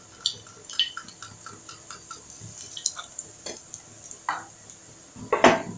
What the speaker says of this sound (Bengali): প্রথমে আমি বড়িগুলো ভালো করে ভেজে নেব।